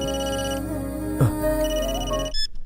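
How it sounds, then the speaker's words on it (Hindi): A mobile phone ringtone plays in a film scene, a sustained melodic electronic tone pattern that is fairly loud and close, running steadily for over two seconds before cutting off. "रिंगटोन काफी अच्छा है तुम्हारा"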